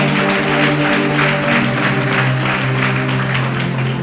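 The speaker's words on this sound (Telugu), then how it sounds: "చప్పట్లు కొడదాం." Audience applause at a sermon: a steady, dense wash of many hands clapping that fills the whole stretch at an even, fairly loud level over a faint low hum.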